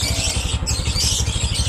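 A tricycle motorcycle engine warming up idles close by with a fast, even chugging pulse and a light metallic clatter.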